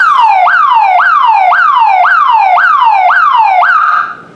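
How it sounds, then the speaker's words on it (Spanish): A 50-watt alarm siren triggered by an RF remote control wails loud and close in a steady rising-falling cycle, about seven sweeps of two per second, then cuts off abruptly near the end. "esta sirena es obviamente de más vatios, este es de 50 vatios"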